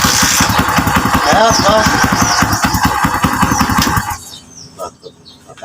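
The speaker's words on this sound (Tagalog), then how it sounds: "umandar na yung motor ni boss" A Kawasaki Barako motorcycle engine, just brought back to life after carburetor trouble, runs with a loud, fast, even chugging pulse up close, then cuts out near the end; someone speaks briefly.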